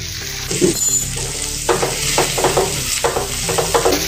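Fennel seeds and onion fry in hot oil in a pan, a close, loud sizzle broken by repeated stirring scrapes and clinks of the spoon against the pan.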